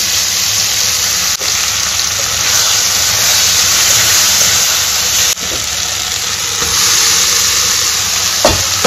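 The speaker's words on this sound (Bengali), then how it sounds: "এখানে বেগুন, আলু আর পেঁয়াজ ভালো করে ভেজে দিয়েছি নুন হলুদ দিয়ে। এর মধ্যে টমেটো দিয়ে দিলাম। এরপরে এই মশলাটা দিয়ে দিচ্ছি।" A pan of eggplant, potato, onion and tomato fries with a loud, constant hissing sizzle as spice mix goes in, broken by a couple of sharp clicks and a soft bump toward the end; no speech.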